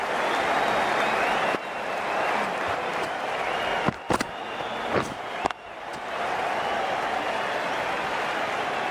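Applause and cheering from a cricket stadium crowd in the Cricket 19 video game, a steady broad wash of clapping that briefly dips midway with a few sharp knocks before swelling back up.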